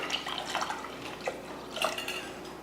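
Water is poured into a cooking pot holding toor dal with a small tomato, a few garlic cloves, turmeric and a little fenugreek, giving a brief, moderately quiet splashing and trickling sound with small drips, heard alone.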